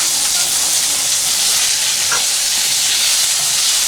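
Eel fillets frying in a pan give a steady, loud hiss and sizzle of hot oil, unbroken and close, with no voices over it.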